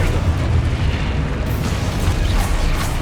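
A Confringo explosion spell cast in the video game Hogwarts Legacy, a loud, deep booming blast with rumbling low-end that fills the whole moment and carries on without any talking.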